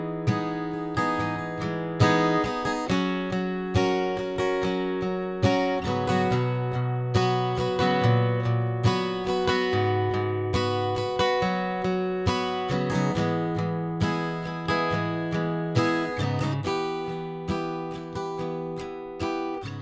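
Guitar plays the second bridge of a song, a steady strummed chord progression with a clear rhythmic pulse, moderately loud and alone with no talking.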